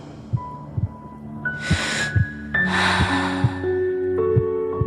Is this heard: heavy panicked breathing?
yes